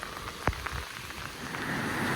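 Steady rain hisses down on a surface, with one sharp crackle early on and an even wash of falling drops throughout.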